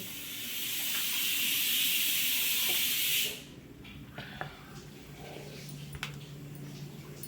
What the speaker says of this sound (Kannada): ಸ್ವಲ್ಪ ಕುಕ್ಕರ್ ಸ್ಟಾರ್ಟ್ ಇದೆ